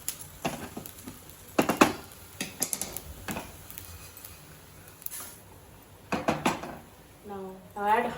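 Roasted spices for idli karam podi being transferred onto a plate: a handful of sharp metallic clinks and scrapes from utensil and plate, close and intermittent, with speech toward the end.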